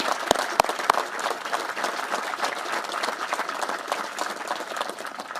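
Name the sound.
audience round of applause for troopers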